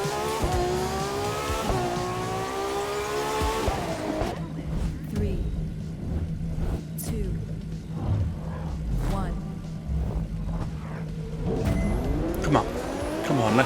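Race car engines in The Crew 2 video game rev and shift through climbing gear changes, with tire squeal and a steady droning motor tone, loud and close while a person talks over the action.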